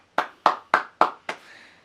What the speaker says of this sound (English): maybe an audio of people clapping